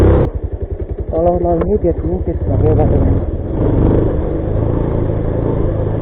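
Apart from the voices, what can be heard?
motorcycle engine sound on a road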